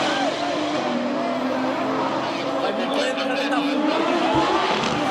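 A GTO race car at a mountain hillclimb roars past at speed, a sustained engine drone sweeping up and fading, with people talking over it nearby.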